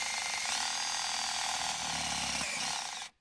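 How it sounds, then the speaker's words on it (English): A loud, steady whine of a power drill boring through rubber then aluminium on a Land Rover Discovery 3 underbody for about three seconds, ending abruptly, with a shift in pitch partway through. "you hit the aluminium, which should be fairly easy to drill through"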